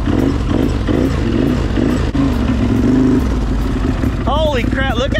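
Squatted Can-Am Outlander ATV with its rear end sitting low, the engine droning and revving loud and close as it drives, under excited talk.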